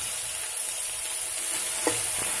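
Broad beans and dry fish curry frying and being stirred in a pan: a steady, even sizzle throughout, with one brief louder stir near the end and no talking.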